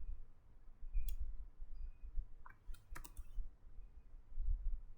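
Computer keyboard keys pressed in a few sparse, quick clicks close by over a low steady hum, with no talking.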